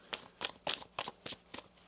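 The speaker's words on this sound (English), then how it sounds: "One more shuffle here." Tarot cards are shuffled by hand in quick, crisp riffles, about six soft close-up bursts at a steady rhythm with no talking.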